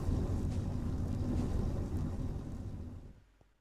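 Coke ovens in modded Minecraft (FTB Interactions Remastered) giving off a dense, steady rumble that holds level and then fades away over the last second.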